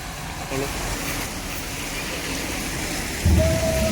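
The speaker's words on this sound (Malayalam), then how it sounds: "ഇവിടെ സത്യം പറഞ്ഞ നല്ല മഴയാണ്." Heavy rain pours steadily at Mookambika, a dense, even hiss filling the whole clip, with a brief low thump near the end.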